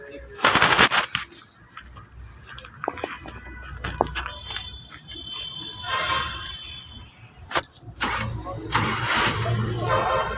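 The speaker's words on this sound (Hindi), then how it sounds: "गाड़ी स्टार्ट करता हूँ, गाड़ी स्टार्ट करके" A 1998 Suzuki Margalla car engine cranks with a rapid rattling stutter, catches and settles into a rough idle, close and loud, with revs rising toward the end.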